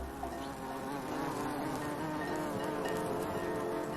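Insect buzzing in the manner of bees, a continuous droning hum with a faint whining edge, layered over soft music and carrying at steady loudness throughout, with no speech.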